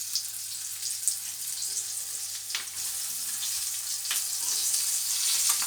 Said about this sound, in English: Now I'm going to put the other fish in the pan.